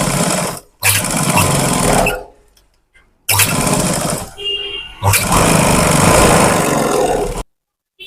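A sewing machine runs in several sustained whirring bursts separated by short pauses while stitching the drawstring casing of a pair of pants, loud and close.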